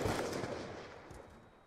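A single loud, close sniper rifle shot in a video game, sharp at the start and then trailing off in a long, rumbling decay.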